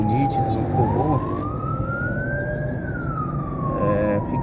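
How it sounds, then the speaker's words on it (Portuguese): A fire brigade ambulance siren wails steadily through slow city traffic between Vila Jaguara and Osasco, its pitch rising and falling over constant road rumble, fairly close and loud. "Tá vendo uma ambulância aí dos corpos de bombeiro."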